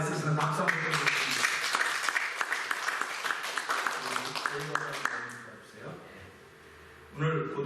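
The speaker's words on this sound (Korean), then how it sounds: "박수 한번 드리겠습니다" Congregation applause for teachers at a church graduation service, a burst of clapping that overlaps with speech, lasts about five seconds, then fades out before talking resumes.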